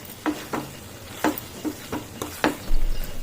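Taro root pieces stirred in a pan for tomato curry: a series of distinct scraping and clattering stirs at irregular intervals over a faint sizzle, close by.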